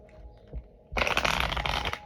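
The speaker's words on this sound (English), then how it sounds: "let's shuffle the cards out." A deck of stiff-stock tarot-style cards is riffled and shuffled close by, a dense continuous flutter of flicking card edges lasting about a second after a brief quiet pause.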